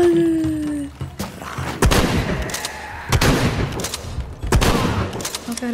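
Gunfire in the Shadow of the Tomb Raider video game, several sharp loud bursts of shots spaced across the stretch over a rumbling game background, with no talk.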